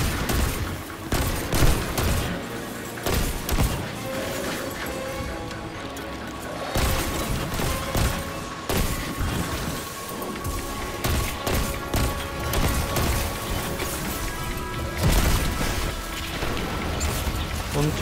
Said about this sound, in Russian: кто это там так стреляет?